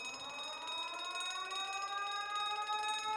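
A ringing alarm from the video game The Great Ace Attorney sounds steadily for about three seconds, with layered, slowly rising tones under a continuous buzzing edge and no voices.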